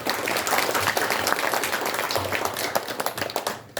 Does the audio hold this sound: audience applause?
yes